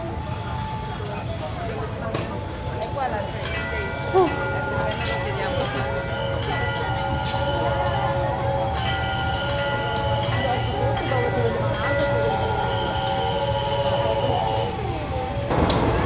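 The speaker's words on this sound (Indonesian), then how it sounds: "Jadi ini dia lokomotif kereta api Pramex Langsir." A Pramex passenger train is shunted by a vintage PJKA CC 203 locomotive. A loud, close low engine rumble runs throughout, overlaid with sustained high wheel-squeal tones and occasional metallic clanks.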